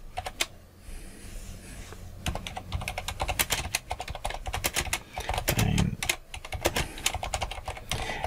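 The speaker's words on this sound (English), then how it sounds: "Let's go just type" Rapid clicking of computer keyboard keys while entering text in Photoshop, a steady run of close, crisp keystrokes with brief pauses, no speech.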